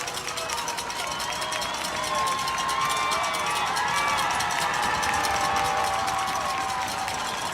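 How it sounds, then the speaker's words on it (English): An away high school football crowd roars at a night game, a dense wash of cheering and shouting rising and holding loud and steady, with a play-by-play voice talking over it. "The Ramblers away crowd growing loud."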